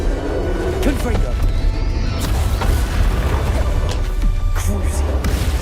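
A Confringo blasting spell goes off in Hogwarts Legacy amid a busy duel, with booming thuds, crashes and whooshes layered under spoken voices.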